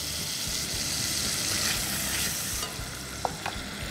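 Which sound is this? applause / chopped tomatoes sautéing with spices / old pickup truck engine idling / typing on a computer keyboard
chopped tomatoes sautéing with spices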